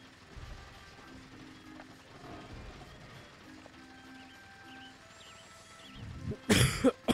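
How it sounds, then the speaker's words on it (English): A single loud, harsh human cough bursts out near the end, close to the microphone, over quiet background music from Banjo-Kazooie: Nuts & Bolts gameplay. "I apologize for this cough, too."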